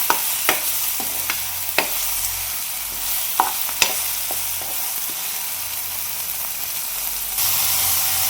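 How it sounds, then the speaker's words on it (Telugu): Ginger garlic paste frying in a pan, a steady broadband sizzle with sharp scraping clicks from stirring scattered throughout, and the hiss growing louder near the end. "అల్లం వెల్లుల్లి పేస్ట్ వేసుకొని పచ్చివాసన పోయేంత వరకు వేయించుకుందామండి"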